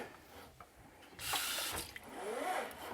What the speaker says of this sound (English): then you're going to run some tap water